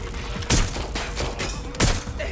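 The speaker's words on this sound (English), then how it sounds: "Quit shooting!" Loud shots from an exchange of fire in Watch Dogs: Legion, several heavy, close reports that stand out over a constant noisy combat background.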